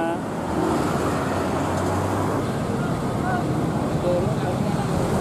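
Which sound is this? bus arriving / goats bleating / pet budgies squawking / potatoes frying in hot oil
bus arriving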